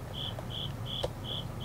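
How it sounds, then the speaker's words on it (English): A single cricket chirps in a basement, giving short, evenly spaced high trills about every half second over a low steady hum, with one faint knock partway through and no voices. "Got this damn cricket down here messing with me."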